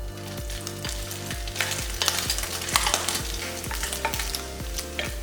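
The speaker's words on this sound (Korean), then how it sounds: "팬을 다시 중약불에 그대로 올려서 식용유 1스푼, 햄을 넣고 앞뒤로 노릇하게 색깔을 내주고" Ham browning on both sides in a spoonful of cooking oil in a pan over medium-low heat, with a continuous crackling sizzle running over a steady, rhythmic musical beat.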